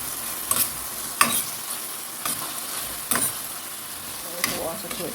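Fish fries in a pan of seasoning with fish sauce, ketchup and browning, a steady sizzle broken by several sharp scrapes and stirring clatters.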